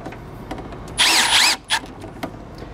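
A power drill driving screws into plastic whirs briefly at close range for about half a second, followed by a short second burst, with quiet handling noise around it, while installing an electric RV step.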